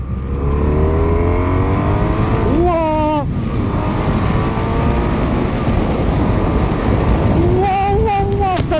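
A 2017 BMW F800R motorcycle revving hard as it accelerates past 7000 rpm, a loud continuous engine roar with rising pitch sweeps at the gear changes, close and dominant throughout.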